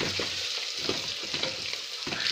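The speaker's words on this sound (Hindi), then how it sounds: "थोड़ी देर किया इसको फ्राई, मेरा अदरक और लहसुन पेस्ट फ्राई हो चुका है।" Ginger and garlic paste frying in a pan after browned onions, a steady dense sizzle with occasional stirring scrapes, close and without talk.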